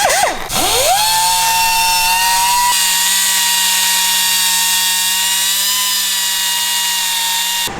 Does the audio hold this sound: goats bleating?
no